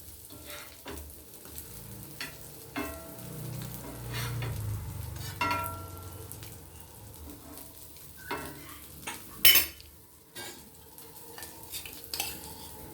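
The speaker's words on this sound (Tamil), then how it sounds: "அப்படியே எண்ணெய் ஊற்றி நம்ம நல்லா வேக வைக்கணும்." Green peas karunai cutlet frying in oil in a pan, a soft continuous sizzle with scattered scraping and stirring clicks of a utensil against the pan, fairly close.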